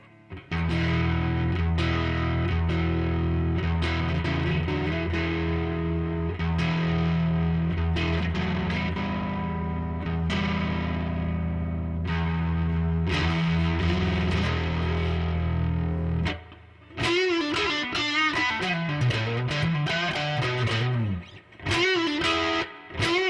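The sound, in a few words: guitar through distortion pedal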